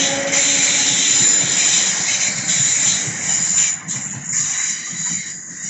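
A Class 455 electric train rolling through Clapham Junction station, a loud continuous rumble and hiss of wheels and cars passing close by, easing slightly toward the end.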